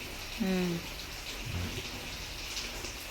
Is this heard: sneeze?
no